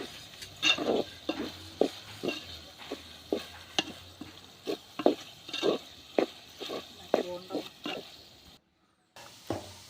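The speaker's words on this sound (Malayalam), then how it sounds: "അതൊന്ന് ഇളക്കി കൊടുക്കുക." Soaked soya chunks being stirred in a pan for a soya chunks roast, a regular series of scraping spoon strokes against the pan about every half second with a faint sizzle underneath, near and clear.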